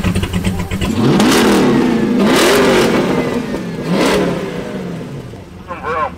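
A twin-turbo police car engine revs up and down in three swelling pulls, loud and close, with a fainter mechanical whir between bursts.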